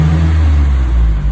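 A Mitsubishi Pajero 4 3.8 with controlled exhaust holds a loud, deep, steady engine drone nearby, sustained with a slight dip at the end.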